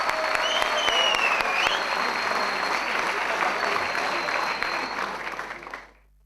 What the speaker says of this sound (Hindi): Can I hear a huge round of applause for none other than the great and the greatest Johnny Lever